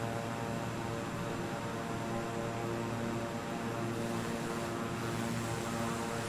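Steady, loud propeller aircraft engine drone in Microsoft Flight Simulator 2020, with RPM pulled back for the descent, holding an even tonal hum throughout with no talking.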